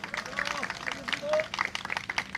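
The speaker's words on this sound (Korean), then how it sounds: "이병하 상임대표님께 다시 한번 큰 박수 부탁드립니다." Crowd applause for a speaker at an outdoor labor rally: scattered clapping from a fairly distant crowd, rising and falling, mixed with voices and babble.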